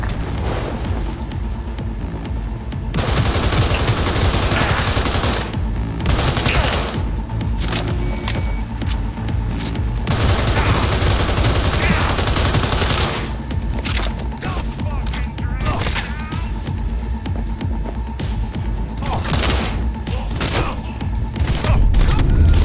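Loud, dense gunfire from a shooting video game, with rapid bursts and booms rolling almost continuously and a voice speaking at times.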